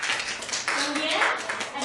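A classroom of students clapping hands together during a microteaching lesson, a brief burst of close, dense claps lasting under two seconds.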